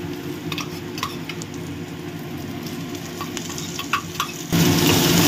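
Chopped tomato hits fish frying in hot oil in a pan, giving a steady loud sizzle that swells sharply near the end as the tomato goes in, with no voices.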